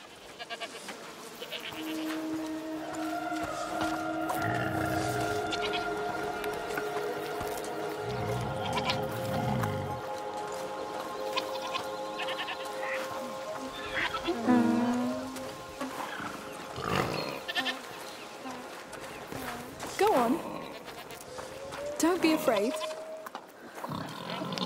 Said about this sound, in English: What's over there? Goats!